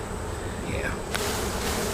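A honeybee colony buzzes loudly and continuously at close range during a spring hive inspection, a dense droning hum with a brief sharp click partway through.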